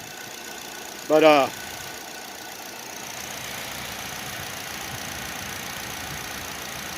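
A 2008 Pontiac G6 engine runs at a steady idle despite a fuel pump that won't build pressure to spec, a low, even drone throughout, with one brief spoken word near the start.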